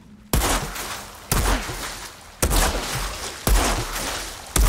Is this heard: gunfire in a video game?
yes